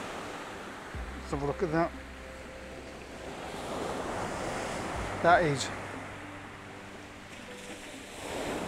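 Sea waves and foamy surf wash steadily against the coast under gusty wind noise, with someone speaking briefly close by.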